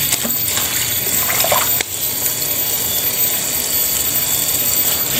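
Running water pours steadily from a tap as cassava leaves are washed, a constant hissing gush with a few brief splashes and knocks near the start, close and fairly loud.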